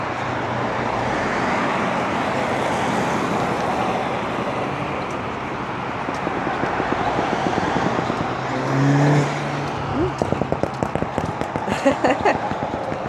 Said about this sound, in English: Ooh, noisy cars.